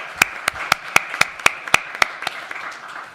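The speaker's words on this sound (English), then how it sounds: "Can we have a quick round of applause to thank them and all of our other speakers?" Slow, sparse clapping from a small audience at a trade union pensions conference, about a dozen distinct sharp claps spaced evenly and fading toward the end.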